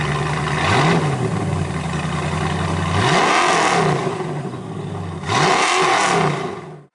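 A TVR sports car with a Rover SD1 engine revs three times, each blip rising and falling in pitch, loud and close, with a steady idle rumbling between the revs.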